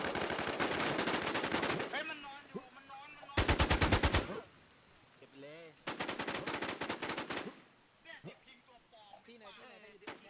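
Automatic gunfire from the online shooter Infestation rattles out in two rapid bursts, loud and close, with excited talking in between.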